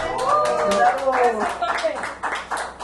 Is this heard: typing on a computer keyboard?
no